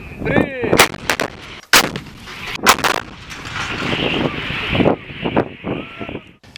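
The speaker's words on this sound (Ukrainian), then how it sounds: "артилерійські розрахунки гармат Д-20 виконували нормативи із знищення як берегових, так і надводних цілей" Heavy D-20 howitzer artillery fire booms repeatedly during naval firing drills, sharp loud blasts at irregular intervals over a windy, rumbling outdoor background.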